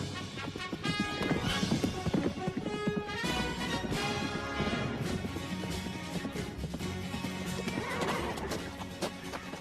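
Horse hooves clip-clopping on the ground as the animal is brought to a stop, with loud neighing and whinnying over busy background music.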